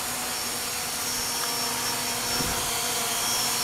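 A UPAir video drone hovers and descends to land, its steady whirring rotor drone continuous and fairly close throughout, with no talk over it.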